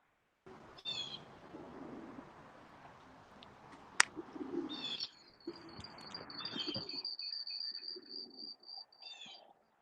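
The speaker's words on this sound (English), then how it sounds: "We'll take you in, see the birds." Pigeons coo softly and repeatedly inside a racing loft, low murmuring calls in a steady rhythm, with a sharp clack partway through and a thin high whistling tone later on.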